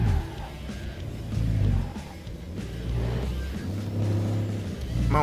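Truck engine in a trucking simulator game revving up under acceleration, a steady mid-low drone that rises and falls in pitch over several seconds with no talking.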